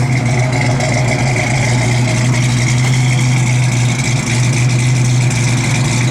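A 1967 Ford Mustang engine idles close by with a steady, loud, low rumble and an even hum that holds for the whole stretch.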